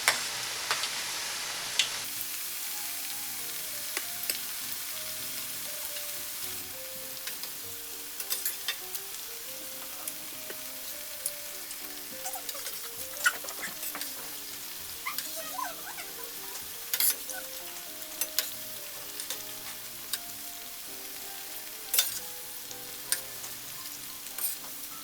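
Vegetable pakoda frying in hot oil, a continuous gentle sizzle with frequent light scrapes and taps of stirring throughout, steady and close.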